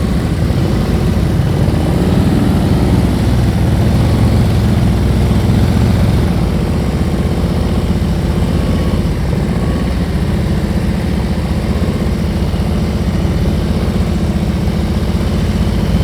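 A motorcycle engine runs at low speed through slow riding practice, a loud, steady, close rumble holding almost unchanged with only slight shifts in throttle and no voices over it.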